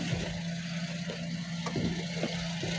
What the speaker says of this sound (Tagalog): Check natin yung kanyang makina.